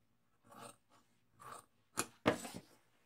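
Scissors cutting through dress fabric to shape a neckline, a few separate snips that get sharper and louder toward the end, close and alone.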